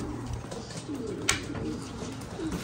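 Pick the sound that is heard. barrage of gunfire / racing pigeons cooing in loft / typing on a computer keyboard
racing pigeons cooing in loft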